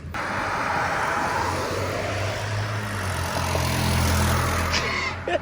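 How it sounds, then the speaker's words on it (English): A modified, tuned-up SUV rumbles past at the Cruisin State Street car show in Fremont, Ohio, with a steady low engine drone that swells as it nears and then fades, over outdoor crowd ambience and no talk. "Did you hear the keyed up SUV that just went by?"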